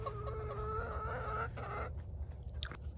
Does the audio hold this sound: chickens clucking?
yes